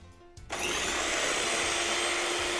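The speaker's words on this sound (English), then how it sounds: "if you have a hand blender like this one, it makes everything easier" A hand blender whisks egg whites for an orange chiffon cake, switching on abruptly after a brief quiet start into a steady, loud motor whine that holds without a break.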